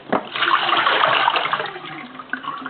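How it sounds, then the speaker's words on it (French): Running water pours steadily over sprouted seeds in a tray during a generous rinse, a continuous close splashing rush that swells and then tapers off near the end. "on rince de nouveau abondamment"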